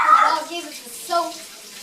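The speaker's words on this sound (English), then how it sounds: "we're going to wash our hands" Hands being washed under a running tap, a short close splash and water rush lasting under two seconds, with a voice faintly overlapping.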